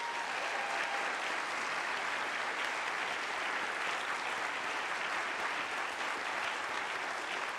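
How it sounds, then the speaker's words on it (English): A large audience applauds continuously, a dense, steady roar of clapping that holds evenly throughout without pauses. "Let's give them a round of applause."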